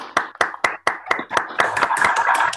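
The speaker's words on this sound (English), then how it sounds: "Please open your microphones to give an applause to Avelino." Scattered hand claps from a few participants in an online video call during a particle physics school session. They start as separate sharp claps and then merge into denser, overlapping clapping.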